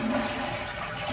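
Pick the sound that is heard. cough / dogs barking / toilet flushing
toilet flushing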